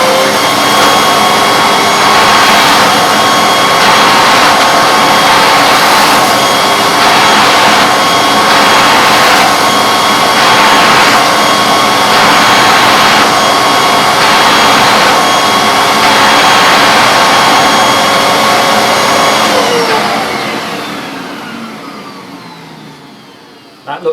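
A vintage Hoover Vortex bagless upright vacuum cleaner runs loud and steady with a high whine, its pitch wavering slightly, then winds down and falls quiet near the end.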